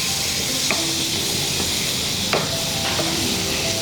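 Butter sizzling and frying in a pan at the start of cooking chicken stroganoff, a steady close hiss with a few faint clinks of a spoon stirring.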